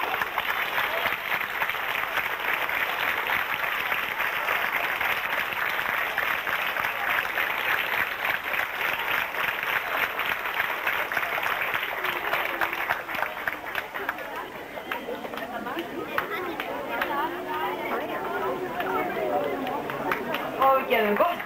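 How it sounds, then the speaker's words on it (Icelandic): Prolonged applause from an audience at an award ceremony goes on without a break, dense and even, with the murmur of the crowd underneath and a voice speaking over it. "Og við gefum gott klapp."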